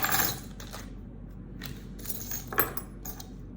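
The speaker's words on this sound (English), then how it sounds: "Now I have another thing of padlocks and padlock keys." A bunch of padlock keys jangles close by during a home declutter, with a few separate bursts of metallic clinking and rattling spread over a few seconds in a quiet room.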